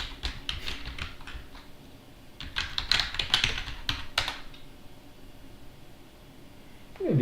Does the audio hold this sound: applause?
no